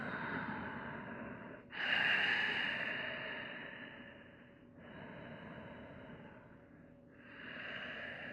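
Slow, deep breaths from someone lying on their back in yoga, each long airy inhale and exhale swelling and fading close to the microphone.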